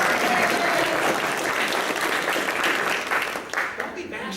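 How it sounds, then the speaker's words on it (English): A crowd applauding steadily, a dense wash of clapping that thins out near the end. "They'll give them a lot of applause"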